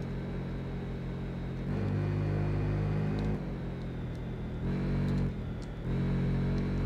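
A Yamaha TMAX scooter engine races in the video game Tourist Trophy, a steady close drone that rises and drops in pitch as it revs through gear changes, alone without talk.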